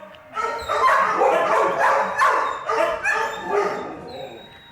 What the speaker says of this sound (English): Once you've heard a big dog cry, you won't forget it.